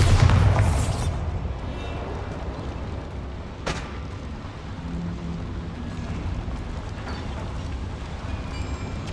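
Bombarda explosion spell in Hogwarts Legacy, a loud booming blast at the start that decays into rumbling debris, with a sharp crack shortly after and a low, steady ambient rumble continuing.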